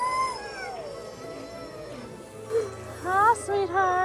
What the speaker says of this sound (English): Before the ride even started, the dogs were loud, barking,